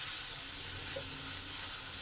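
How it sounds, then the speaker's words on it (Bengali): Ground cumin, poppy seed and sesame paste stir-fried in hot oil, a steady close hiss of sizzling with no distinct strokes, fairly quiet. "জিরে, পোস্ত আর তিল একসঙ্গে বেটে রেখেছি, সেই বাটা মশলাটা দিয়ে দিলাম। এবার এগুলো ভালো করে একটু কষে নেব।"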